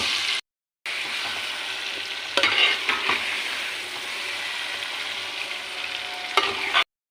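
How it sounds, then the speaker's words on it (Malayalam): Masala-marinated chicken hits hot butter in a pan and sizzles loudly and steadily, with a few clinks of stirring and a short gap near the start. "നമ്മൾ നേരത്തെ മസാല തേച്ച് വെച്ച ചിക്കൻ ഇതിലേക്ക് ഇട്ട് കൊടുക്കാം"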